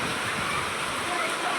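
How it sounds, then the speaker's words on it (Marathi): Heavy rain pours onto a veranda in a village, a dense steady roar of water, loud and close, continuous across the short stretch. "आता डायरेक्ट मध्ये येऊ राहिलं वरंड्यावर पाऊस"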